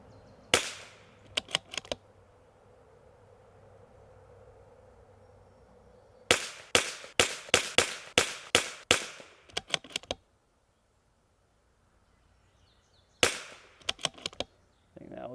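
Rimfire shots from a CZ457 MTR rifle fitted with a Lilja barrel, outdoors: one early crack, then a rapid string of about ten sharp reports, a pause, and a few more at the end, loud against a quiet background.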